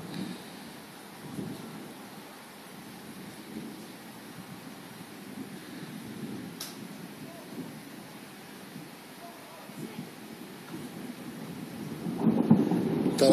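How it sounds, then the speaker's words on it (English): Thunder from a storm surrounding a house rolls in low, drawn-out rumbles beneath steady rain and some wind, swelling louder near the end, with a person speaking briefly. "there's thunderstorms going on all around us now."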